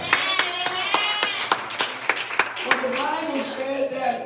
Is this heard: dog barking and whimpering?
no